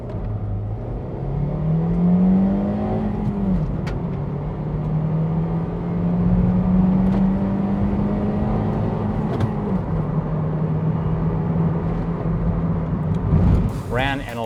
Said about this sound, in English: The white CRZ. That was like a 2011 Honda CRZ.